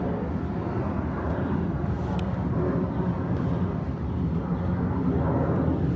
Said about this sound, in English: they trying to let this airplane go by real quick